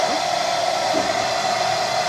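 A dog blow dryer runs on high heat, giving a loud, steady whooshing roar with a strong constant whine that holds evenly throughout.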